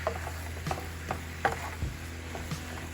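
Vegetables are stirred in a hot hibachi-style pan, scraping utensil strokes recurring every half second or so over a soft continuous sizzle, close by and without voices.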